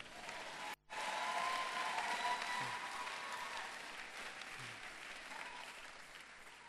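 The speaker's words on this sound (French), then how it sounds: "Acclamez le Seigneur" A church congregation claps steadily for several seconds in a dense, even wash of applause, with a brief dropout near the start and faint voices mixed in.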